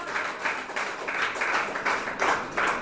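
An audience at an outdoor Tamil Christian gathering in Uthukottai claps hands in steady rhythmic bursts, about two per second, moderately loud and continuous without talk.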